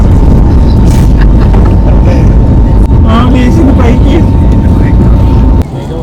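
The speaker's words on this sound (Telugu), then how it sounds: "మన ఫ్లైట్ అనేది చాలా సేపటి తర్వాత ఇప్పుడు టేక్ ఆఫ్ అయితే మొదలైందండి" Heard from inside the cabin, a passenger airplane begins its takeoff roll on the runway with a loud, constant roar and rumble, while a person talks over it.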